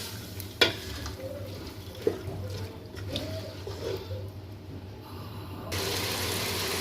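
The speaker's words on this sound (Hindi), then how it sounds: "इसको हल्का सा भूनेंगे, बिल्कुल लाइट सा, 3 to 4 सेकेंड्स।" Spices lightly frying in a pan while cooking chana dal, a soft steady sizzle with a few clinks and stirring scrapes, joined near the end by a louder rush like water being poured in.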